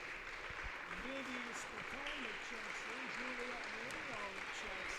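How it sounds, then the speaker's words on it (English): A home crowd at a girls' high school basketball game applauds steadily, a broad wash of clapping under a commentator's continuous talk. "the Hornell crowd gives a nice hand to those ladies right there"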